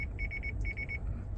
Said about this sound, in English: it sees a car coming down the aisle, that's why it's beeping at me